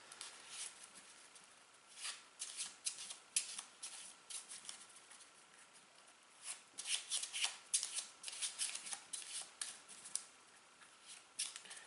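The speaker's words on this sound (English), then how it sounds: "I'm trying to do a little bit of a riffle shuffle here with only 11 cards" A small deck of 11 cards is riffle shuffled for the Legendary Encounters: Alien board game, producing repeated quiet crisp flurries of card flicks and soft taps at close range.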